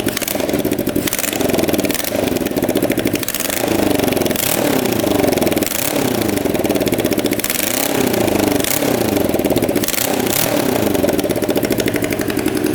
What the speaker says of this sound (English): Still an exhaust leak from these two pipes, but it's running, look.